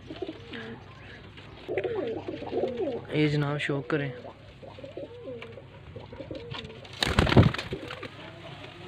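Soft cooing of high-flying pigeons in Faisalabad sits under a man's speech, with a brief rustle or flutter of wings near the end.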